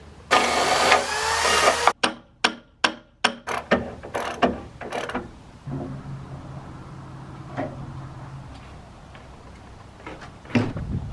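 Ratchet wrench tightening bolts on the rafters of a barn lean-to roof over a dairy, a quick run of sharp repeated clicks followed by quieter scattered ratcheting and knocks on site.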